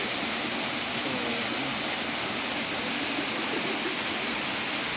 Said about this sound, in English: After my small snack, I continue climbing until I reach this amazing waterfall.